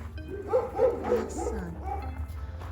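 A few video-game dog barks and yips in quick succession, moderately loud, over a steady low hum with some background noise, in a horror game.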